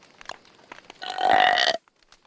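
A girl lets out a single loud, drawn-out burp lasting under a second, preceded by quiet breathy sounds and followed by near silence.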